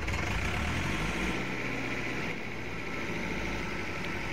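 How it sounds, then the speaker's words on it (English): A John Deere combine engine runs in Farming Simulator 22, a loud, steady, broadband drone with little variation throughout. "turn on the engine, so it's going to be very loud."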